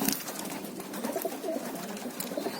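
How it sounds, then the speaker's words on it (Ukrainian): Pigeons coo softly near a walk-in aviary enclosure while young birds bathe, their low murmuring calls steady over a busy background of splashing and rustling, with no talk. "Ось дав голубам покупатись."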